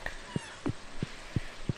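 A cat in the farming game Stardew Valley meows in a short series of about five brief, evenly spaced calls, moderately quiet over a faint steady background.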